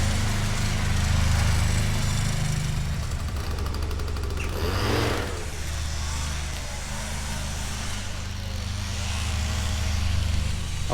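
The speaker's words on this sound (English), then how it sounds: "someone is mowing their lawn" A lawn mower runs steadily nearby in a village setting between Beckhampton and Avebury, a continuous low engine drone with a brief louder swell midway, heard alone without talk.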